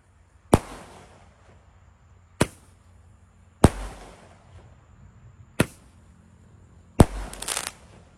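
A Roman candle firecracker fires beneath an upturned water gallon, five sharp, loud blasts spaced irregularly about one to two seconds apart, each ringing briefly before fading, the last trailing into a short crackle.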